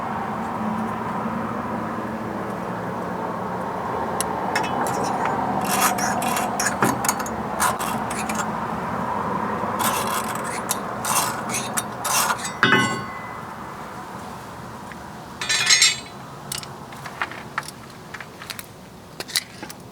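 Saw or cutting tool working through a part during a drop plate install on a 1964 VW Type 3 Notchback, a steady close rasping grind broken by scattered clicks and scrapes, with no talking.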